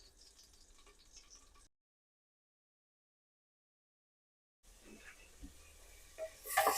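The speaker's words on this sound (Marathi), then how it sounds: "मी आता जिरे ऍड करते याच्यामध्ये." Cumin seeds sizzling in hot oil with mustard seeds for dal khichdi, a soft steady crackle that cuts out for a few seconds and then returns with louder popping and spitting toward the end.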